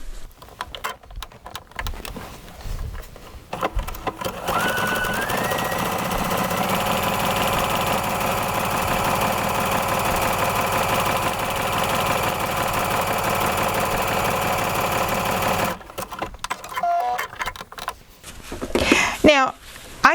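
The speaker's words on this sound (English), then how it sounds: "I'm going to stitch here, and it's going to swing over to the left and catch that lace." Vesta sewing machine stitching lace onto fabric, a steady close motor whir with rapid needle clatter running for about eleven seconds, then stopping as fabric is handled with a few soft knocks and rustles.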